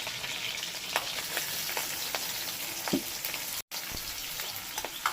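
Crushed garlic, slit green chillies and chopped onion fry in hot oil, a steady close sizzle punctuated by stirring clicks and scrapes, with one brief dropout.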